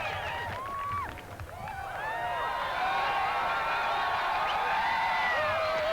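Ski race spectators at Whistler's 1986 downhill cheer and whoop in a sustained, fairly loud roar beneath bright, rising calls, building steadily with no break.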